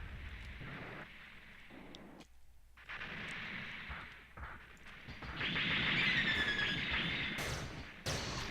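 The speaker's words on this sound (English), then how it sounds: "You'll notice that I'm shooting the shit out of that guy, but no damage is occurring" Gunfire in the video game Mobile Suit Gundam Online, with sharp shots and booming bursts over a rushing, windy background, growing louder and denser toward the end, and no talking.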